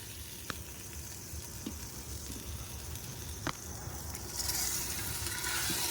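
Mutton cooks in a pot with a soft, steady sizzle and bubbling, punctuated by a few faint clicks and clinks, growing a little louder toward the end.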